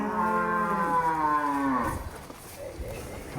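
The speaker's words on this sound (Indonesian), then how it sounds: "Sapi simental jumbo." Jumbo Simmental cattle low with one long, loud harmonic moo that slides downward at close range, followed by quieter barn noise.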